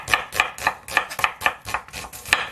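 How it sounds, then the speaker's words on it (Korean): Onion being sliced into thin strips with a knife on a cutting board, a quick steady series of about ten crisp chopping knocks, close and clear with no talking. "양파는 이렇게 채를 쳐서 말리면 되는데요."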